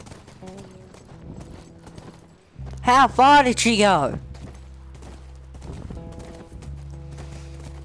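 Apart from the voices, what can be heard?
horse hooves clip-clopping in the video game The Last of Us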